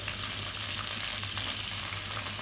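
Sliced onions hit about a cup of hot oil and ghee, setting off a loud, continuous close-up frying hiss with a steady crackle and no talk.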